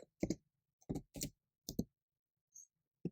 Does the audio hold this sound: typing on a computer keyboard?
yes